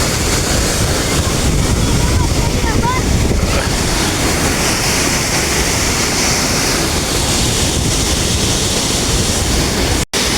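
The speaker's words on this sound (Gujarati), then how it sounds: "દરવાજાની ઉપરથી ફૂલ પાણી જઈ રહ્યું છે." Loud, rushing water roars continuously close by as a full lake overflows the tops of dam gates, a dense churning spill with wind buffeting the microphone and no break in the flow.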